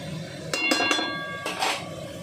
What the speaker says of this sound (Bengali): চাউমিনটা কেমন জোরে জোরে হচ্ছে।